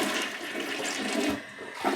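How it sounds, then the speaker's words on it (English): A household toilet flushes in an apartment bathroom, a steady rushing swirl of water heard up close and alone for about two seconds before it begins to taper. "Then I'm gonna flush my toilet."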